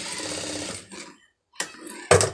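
Sewing machine stitching a blouse sleeve joint, running in a steady buzzing burst, stopping briefly, then two shorter rapid bursts close by.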